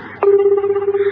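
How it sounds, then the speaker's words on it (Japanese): Telephone tone in a radio studio as a call is placed: a short click, then a steady, loud electronic tone that holds without a break, with no talk over it. "ちょ電話会社の都合でここから今電話をかけるんですけれども"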